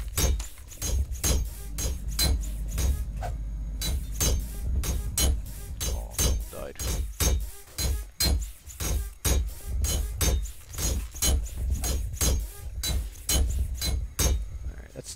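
A hammer repairs a tank in the game GMOD Zombie Survival, striking in a fast, steady run of sharp metallic clinks that repeat for about fifteen seconds, loud and close.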